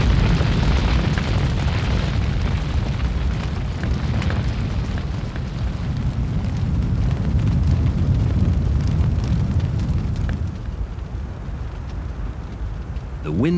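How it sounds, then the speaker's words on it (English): Forest fire raging in strong wind on Akha jungle farmland, a loud continuous roar with low rumbling and crackling bursts that stays dense and steady throughout, no talking. "Strong, powerful wind, blow on the fire and make the forest burn."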